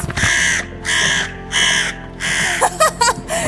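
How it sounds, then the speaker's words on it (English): A crow in a tense game scene lets out four loud, harsh caws in a slow, even rhythm close by, followed by quicker, broken squawks and cries. "It's the crow! It found us!"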